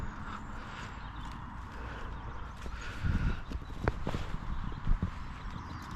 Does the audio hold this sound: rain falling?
no